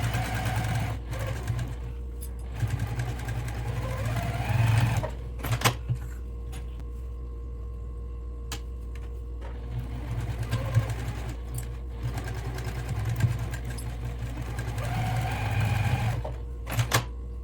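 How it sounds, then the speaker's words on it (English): Domestic sewing machine back-stitching and then sewing a fabric seam for a fabric container, a steady motor whir and needle rattle running close and fairly loud for most of the stretch, with short pauses and restarts. "I'm going to start to sew"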